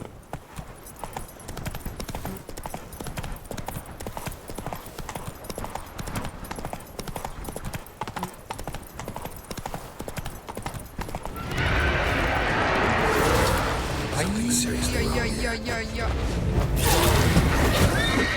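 In The Witcher 3, the horse Roach trots with rapid, steady hoof clip-clops, then shifts to a louder gallop, and a whinny breaks through near the end while a person talks over it.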